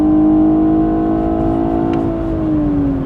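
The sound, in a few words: BMW 840i xDrive Gran Coupe engine in Sport Plus mode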